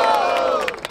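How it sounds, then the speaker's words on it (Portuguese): Crowd at a rap battle in a plaza erupts in a short, loud burst of cheering and shouting, close and full, cutting off quickly. "Barulho para as rimas do diamante!"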